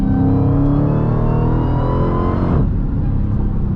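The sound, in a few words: muscle car engine accelerating through gears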